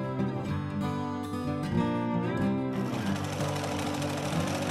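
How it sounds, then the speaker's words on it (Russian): A sewing machine stitches the side seams of a dog jumpsuit, a steady rapid mechanical whirring and clatter that runs continuously and fairly loud, with no voices. "можно смело прошивать боковые швы на швейной машине"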